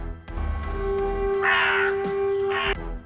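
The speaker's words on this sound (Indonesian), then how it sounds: "Allison terbangun karena mendengar suara burung gagak di dekatnya" Two loud, harsh crow caws sound close by against a low background rumble, each call a rasping burst, with a steady tone running underneath.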